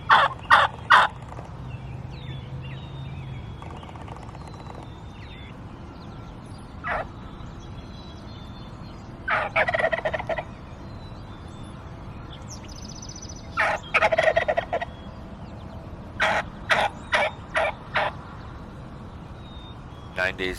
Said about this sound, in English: The gobble came from the middle of the grape field.